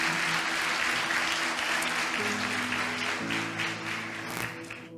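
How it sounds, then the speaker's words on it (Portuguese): A church congregation claps steadily during a sermon, a dense wash of applause over soft sustained keyboard tones, tapering slightly toward the end. "Você pode aplaudir a ele por isso, em nome de Jesus."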